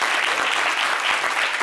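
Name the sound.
studio audience applause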